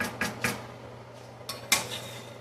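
A utensil stirring steak, peppers and broccoli in a skillet, a few clinking metallic scrapes and taps at close range over a low steady background hum.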